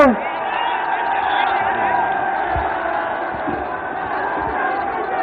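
A large crowd at a Samajwadi Party political rally in Mungra Badshahpur roars with sustained cheering, shouts and whoops, a dense wall of voices that swells at the start and holds steady.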